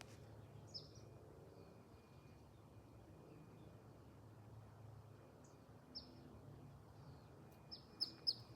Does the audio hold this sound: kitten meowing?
no